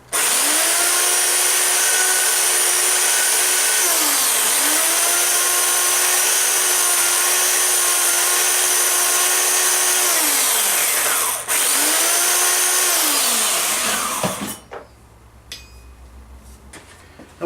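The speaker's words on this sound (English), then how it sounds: "This is just a power file. What I'm doing is touching these back to flat." A power file grinds steel armour hinge parts flat, a loud, steady high-pitched whine running in three long passes with brief dips between them, then cutting out and winding down near the end.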